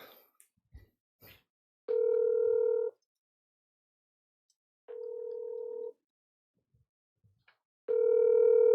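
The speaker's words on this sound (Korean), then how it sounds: "전화를 한번 연결해 보겠습니다." Telephone line tone heard while a call is being placed: three steady electronic tone bursts of about one second each, separated by two-second silences, clear and close with no talking.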